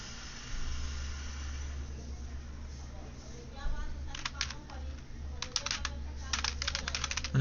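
Keys clack on a computer keyboard in bursts of quick taps, entering a SQL insert statement, fairly close and moderately loud under a man's ongoing speech, over a steady low hum.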